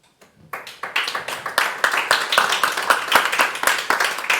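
An audience at a panel talk on energy transition claps for a speaker, starting with a few scattered claps and quickly swelling into steady, close applause.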